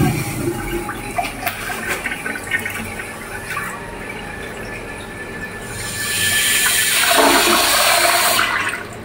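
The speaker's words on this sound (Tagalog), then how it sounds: "Pag flash natin, bumababa na yung tubig niya." A previously clogged toilet flushes, water rushing and gurgling steadily and growing louder toward the end as it drains through the bowl, close and alone without talk.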